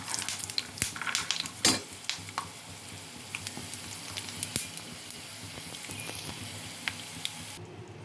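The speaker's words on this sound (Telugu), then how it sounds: "కడాయిలో నూనె పోసుకొని పల్లీలు వేసుకుంటున్నాను" Peanuts frying in oil in a kadai crackle and pop softly up close, with irregular sharp clicks and light stirring over a steady sizzle.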